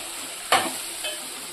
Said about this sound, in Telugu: ఒకసారి కలబెట్టేసి ఇదిగో అడుగంటుంది